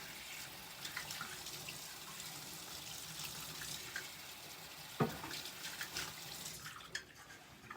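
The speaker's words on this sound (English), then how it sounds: "I'm going to rinse my batter off." Water running from a kitchen sink tap to rinse cake batter off, a faint steady splashing flow with small clunks partway through, no voices.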